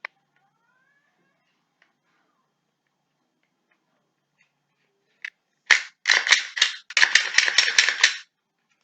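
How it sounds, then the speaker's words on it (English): Handgun dry-fire trigger clicks in a run of sharp, closely spaced snaps after a long quiet stretch, loud and near, with one isolated click before the burst. "Dry fire."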